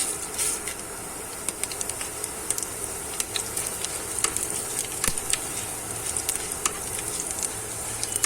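Cumin seeds crackle in hot ghee for Kathiyawadi jeera rice, a steady sizzling hiss broken by frequent sharp pops and spits, close and continuous with no voices.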